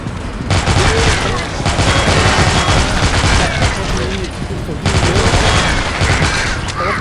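Rapid automatic gunfire blasts at zombies in the mobile shooter Dead Trigger 2, loud and continuous in long bursts with brief pauses, while someone talks over the shooting.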